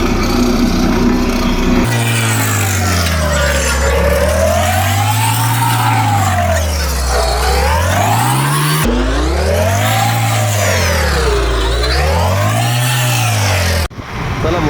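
Vehicles fitted with loud aftermarket silencers rev hard and continuously, the engine pitch swelling and falling in repeated waves, close and dominant throughout with no talk.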